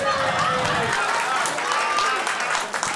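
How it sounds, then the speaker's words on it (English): An audience at a Nerd Nite London talk breaks into a burst of clapping and crowd noise that fills the room for a few seconds, with voices mixed in. "Give her a clap."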